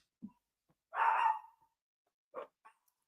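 Dogs bark a few separate times in an otherwise quiet room: a short yip, then a longer, louder bark, then two brief barks near the end.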